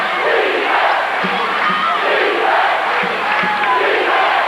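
Basketball arena crowd at a La Salle versus Temple game chanting loudly and steadily, a dense roar of many voices with rhythmic pulses, close and continuous throughout.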